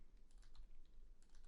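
Fingers type rapidly on a computer keyboard, producing a steady stream of light, close clicks and taps with no speech.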